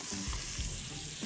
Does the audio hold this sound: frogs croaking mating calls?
no